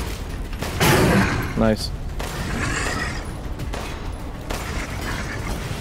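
A Resident Evil Village game fight brings bursts of gunfire and mechanical clatter, including a rapid rattling volley, with a player speaking over the action.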